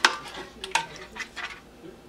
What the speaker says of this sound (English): I'm going to start off by adding some of the meat sauce and spreading that all over the bottom of this